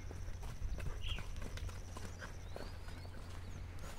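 Steady clip-clop of a mare's hooves walking on a rural ranch, a regular rhythm of hoof strikes over a low constant hum, with no talking.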